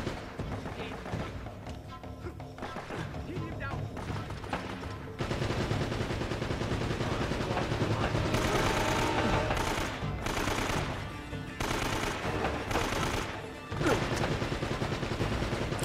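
Sustained gunfire in Uncharted: Drake's Fortune, with rapid automatic bursts and scattered single shots, loud and close, swelling into heavier volleys partway through and continuing with short gaps.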